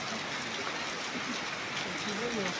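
Rain falls in a steady, close wash of hissing and trickling water, with faint voices murmuring underneath.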